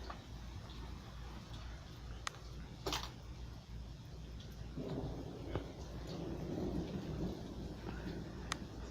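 Loud thunder rumbles and cracks through a steady wash of heavy rain, swelling in the second half, while the rain stays constant beneath it.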